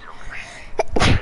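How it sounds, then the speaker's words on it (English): A single sharp sneeze bursts out near the end, close and loud, after a stretch of quiet room noise, with a short intake sound just before it. "Sneeze."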